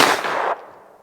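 A single loud, close gunshot from a 16-inch .357 Magnum carbine firing a Nyclad hollow point round, an instant sharp blast with a brief decaying echo.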